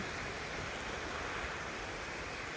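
Sea waves wash in at Mandvi beach with a continuous, loud roar of surf, heavily mixed with buffeting wind noise on the microphone.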